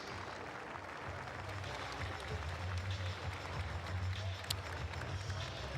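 A crowd at a state championship boys' basketball game in Nebraska gives a steady round of applause, a dense wash of clapping heard from a distance and holding level for several seconds.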